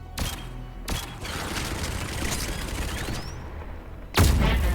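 Gunfire in the video game Mass Effect 3: sharp shots at the start, a sustained stretch of dense combat noise, then a loud heavy blast near the end.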